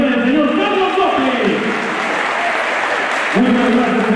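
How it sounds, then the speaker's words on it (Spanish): Audience applause at a ranch tournament semifinal, steady clapping from a crowd, with an announcer's amplified voice speaking over it. "Puros aplausos públicos, por favor, puros aplausos."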